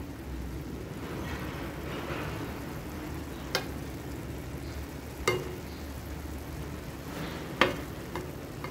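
Food fries in a wok with a steady, quiet sizzle while it is stirred. A few sharp scrapes and clinks of the utensil against the pan stand out from the background crackle, and nobody talks.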